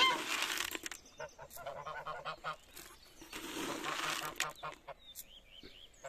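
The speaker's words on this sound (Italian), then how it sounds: "ci sono le anatre che vorrebbero venire di qua" Ducks and geese by a backyard chicken coop honk and quack repeatedly in an irregular, overlapping chorus with some wing flapping, fairly close and continuous throughout.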